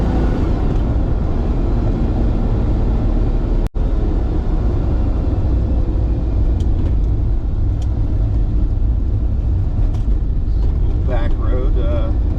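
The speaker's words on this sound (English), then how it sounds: "it's a 5-liter 12-cylinder motor" A 1987 Ferrari Testarossa with a 5-liter 12-cylinder engine drives along a back road, giving a steady, continuous rumble from inside the car, with a sharp click partway through and talk running over the engine.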